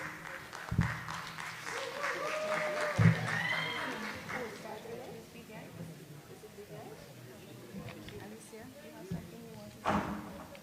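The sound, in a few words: applause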